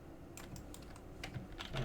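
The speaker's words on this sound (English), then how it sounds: "hit 1 on the keyboard to get my vertices" Keys on a computer keyboard are pressed during 3ds Max modeling, giving a few soft, irregular clicks that are close but faint over quiet room noise.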